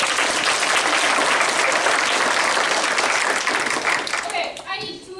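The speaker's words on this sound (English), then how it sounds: "Can I get a big round of applause" An audience at a high school comedy show breaks into a big round of loud, sustained clapping and cheering that fades out near the end as a voice starts to come through.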